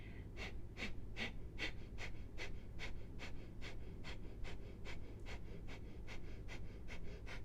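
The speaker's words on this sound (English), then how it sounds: "If you have Kapalabhati breathing, here is a good time to begin." Kapalabhati breathing in a yoga flow: sharp, forceful nasal exhalations pump out in a steady rapid rhythm of roughly two per second, close and clear over a low background hum with no talking.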